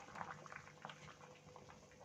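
Duck curry cooked without oil bubbles at a steady boil in a covered pot, a soft continuous burble with small pops, heard alone and fairly faint.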